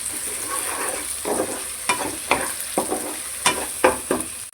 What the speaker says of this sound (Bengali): পেস্টটা দেওয়ার পর ভালো করে এবার নেড়ে নিতে হবে